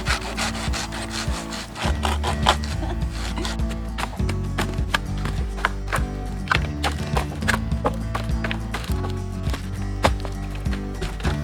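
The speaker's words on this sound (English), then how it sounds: "you need to get on with sawing wood" A hand saw cuts firewood outdoors in the woods at a wild camp, with steady, rhythmic back-and-forth rasping strokes, close and fairly loud, continuing without pause.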